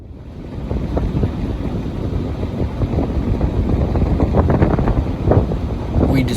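Strong wind batters the microphone outdoors in a parking lot, producing a loud, steady rumbling roar with gusting buffets throughout and no voices.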